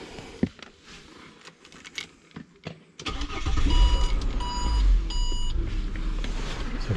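A Ford Territory SUV engine cranks and starts after a few quiet clicks and knocks, then settles into a loud, steady idle close by.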